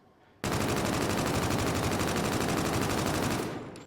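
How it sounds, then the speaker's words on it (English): Sustained automatic rifle fire in a video game gunfight with the KBAR, one loud continuous burst of rapid shots starting abruptly and running almost three seconds before cutting off. "let's just get into a long gunfight and see how it performs"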